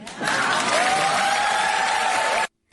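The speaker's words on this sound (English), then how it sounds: "the crowd went wild" A crowd cheers and applauds wildly in a dense, steady roar of clapping and shouts that cuts off abruptly near the end.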